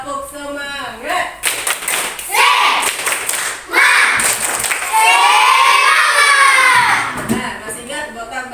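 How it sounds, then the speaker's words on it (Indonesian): Schoolchildren in a fourth-grade classroom doing a rhythmic clapping chant, sharp bursts of claps mixed with loud shouted chanting voices, lively and close. "Sekali lagi, tepuk semangat."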